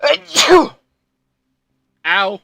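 A single sharp sneeze bursts out close by, with a brief spoken word just before it and another voice answering after a short silence.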